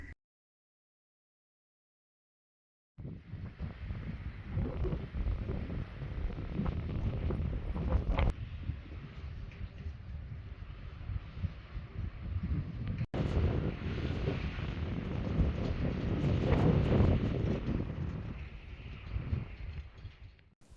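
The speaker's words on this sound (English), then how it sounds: "today is going to be another crazy, windy day" Strong wind buffets the microphone in a steady roar with low rumbling gusts, continuous after a brief silent start.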